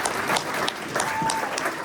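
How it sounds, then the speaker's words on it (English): Guests at an Iftar dinner during Ramadan applaud Halim, a short burst of clapping from a room of people with faint crowd murmur beneath. "Big round of applause for Halim."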